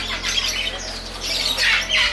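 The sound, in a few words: pet birds squawking in Hong Kong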